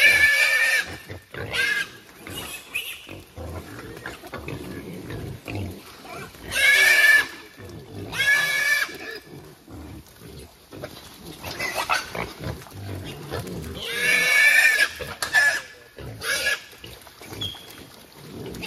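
Caught wild hogs, including small pigs, grunt and squeal in bursts, loud shrill squeals recurring every few seconds between lower grunting and rustling, close by.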